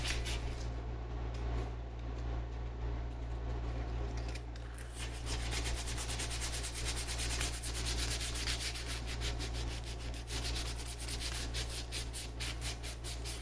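Steady rhythmic rasping of sandpaper on a vintage child's wooden rocking chair, close and continuous strokes under a low constant background hum, with no talking.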